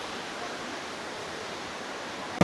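The second fall of Elephant Falls in Meghalaya pours in a steady, broadband rush of water that sounds moderately close, ending in a brief sharp bump.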